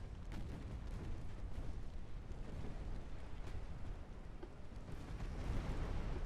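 Heavy naval guns firing in the dreadnought-era battle game Ultimate Admiral: Dreadnoughts, a continuous low rumble broken by distant booms and a few sharper reports.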